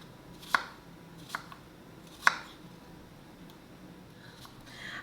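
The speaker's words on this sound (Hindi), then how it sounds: "इसी तरह एप्पल के भी क्यूब कट कर लेंगे छोटे छोटे।" A knife cuts an apple into small cubes on a board, with three distinct sharp chops spaced apart over a quiet background.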